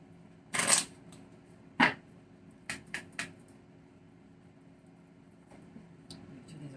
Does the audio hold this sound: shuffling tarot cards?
yes